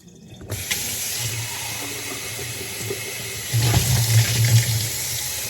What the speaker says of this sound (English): Now this, I'm going to go ahead and rinse out and wash.